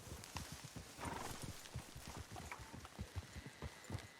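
Horse galloping in the video game Red Dead Redemption 2, with rapid rhythmic hoofbeats and a whinny, faint and steady throughout.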